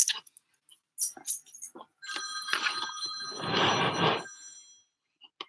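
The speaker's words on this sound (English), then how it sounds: "Let me go over here and see who this is ringing." A telephone rings indoors in a single sustained, bright trilling burst, preceded by a few brief voice sounds and then fading to quiet.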